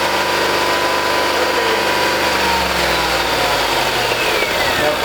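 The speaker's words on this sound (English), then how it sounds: "Okay, Chuck, can you give us 3000 RPMs and hold it there?" Land Rover/Jaguar 3.0L/5.0L engine held at a steady 3000 RPM, heard as a loud continuous mechanical hum with no change in pitch and no talking.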